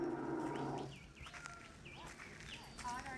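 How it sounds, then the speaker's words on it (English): A bird at a wildlife sanctuary in Western Australia gives a deep, rumbling, lion-like call close by for about a second, followed by thinner chirping notes in the background. "That's a bird."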